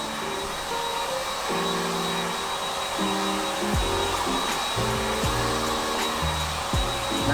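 A hair dryer blows steadily up close to dry hair, a loud continuous whoosh with a shifting motor hum as the airflow changes direction, and no voices.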